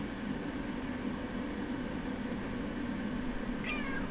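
A pet cat lets out a single short, faint meow near the end of a stretch of steady background hum, with no talking around it.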